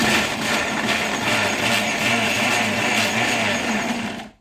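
An electric kitchen blender chops roughly cut green Cheongyang chili peppers, a loud, steady whirring motor with rattling that runs for about four seconds and then cuts off abruptly.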